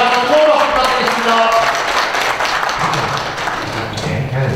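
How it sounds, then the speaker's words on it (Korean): Sustained applause from the audience at a Korean merchants' association chairperson inauguration ceremony at the Wangsimni Doseondong shopping district, a dense steady wash of clapping that runs the whole time with a faint voice or tone underneath. "다시 한번 뜨거운 박수 부탁드리겠습니다"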